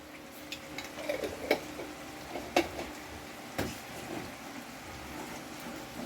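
A spoon clinks and scrapes in a pan of Korean-style seafood sauce, with a few sharp taps against the metal over a faint, soft bubbling in the background.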